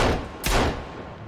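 A single loud gunshot blast from a weapon in the survival video game Sons Of The Forest, a sharp crack with a short decay over steady game ambience.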